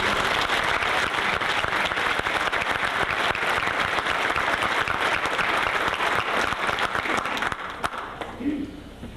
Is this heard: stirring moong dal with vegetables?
no